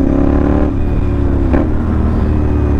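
The engine of a CFMoto NK450 motorcycle, a 450cc 270-degree-crank twin fitted with an SC Project copy exhaust, sends out a loud, close, deep exhaust rumble that rises in a brief rev partway through.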